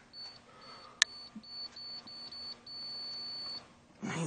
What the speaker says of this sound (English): You can tell when you're getting close because of the beeps starting to go beep, beep, beep, a little faster, faster.